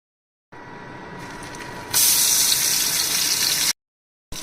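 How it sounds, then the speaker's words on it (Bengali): Spice-coated eggplant slices for begun bhaja fry in hot oil with a steady, hissing sizzle. It grows sharply louder partway through, then cuts off abruptly, with no talking. "বেগুনগুলো গরম তেলে ভেজে নিচ্ছি।"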